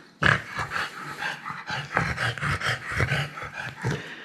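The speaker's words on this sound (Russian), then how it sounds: "Что там Бильбо гавкает" A pet dog in a home lets out a string of rough barks and growly huffs in irregular bursts, loud and close, with panting between them.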